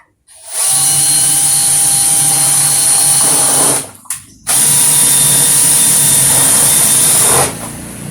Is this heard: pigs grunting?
no